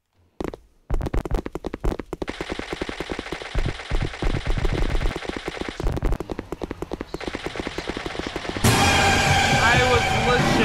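Gun firing in a horror video game, a fast loud burst of rapid repeated shots in a tight rhythm, followed by a brief gap and a noisier final stretch of game sound.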